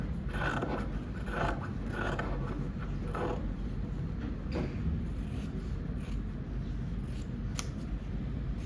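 Scissors snip through tie interlining fabric during tie collar sewing, giving a run of close, crisp metallic cuts and scraping blade sounds, steady and alone with no talking.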